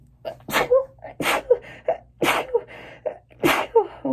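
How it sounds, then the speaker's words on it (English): Four sharp sneezes in a row, each with a quick inhale before it, close and loud with no talking. "Oh shoot, and I'm gonna sneeze"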